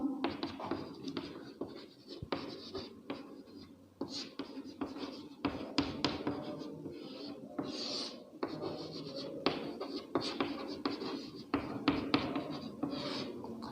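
Marker or chalk scratching across a board while a probability formula is written out for a class 10 lesson, with irregular strokes and taps, a faint voice murmuring underneath.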